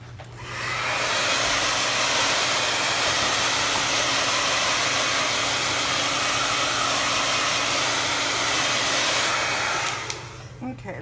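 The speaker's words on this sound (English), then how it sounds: "So let me hit that with a little blow dryer." A handheld blow dryer roars steadily for about ten seconds while drying a page of a recycled magazine art journal, starting up abruptly and cutting off near the end.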